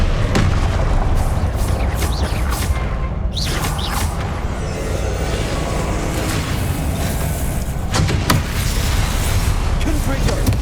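Confringo fire spell blasts and Expelliarmus casts in Hogwarts Legacy combat: a constant, loud wash of booming magical impacts and whooshes, with a character's voice calling out spell names throughout.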